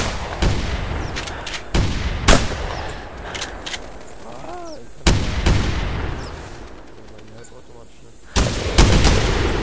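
Gunshots fired at geese in The Hunter hunting video game: several loud, sharp reports spaced irregularly across the scene, with goose honks calling in between and ambient outdoor game sound.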